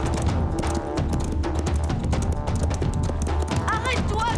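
Rhythmic hoofbeats of a galloping horse in a cartoon over lively background music, with a whinny-like call near the end.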